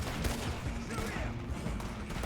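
Rapid gunfire from a Red Dead Redemption 2 shootout during a horseback chase, a dense, continuous barrage of shots with mechanical clatter, loud and unbroken from start to finish.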